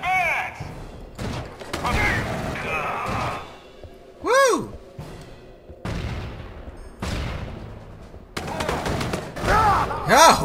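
Weapon fire in Aliens: Colonial Marines comes in separate loud bursts and slams across several seconds, with an electronic, sweeping tone in the middle and a voice talking between shots.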